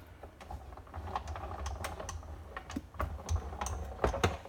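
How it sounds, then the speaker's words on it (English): A Big Shot die-cutting machine cranks a cardstock piece through between cutting plates, giving a run of close, irregular clicks and ratchety taps with no talk over them. "run it through the big shot"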